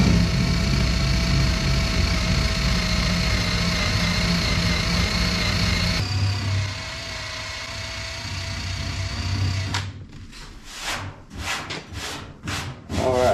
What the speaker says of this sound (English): that old eraser wheel, man, it does a really good job on these old emblems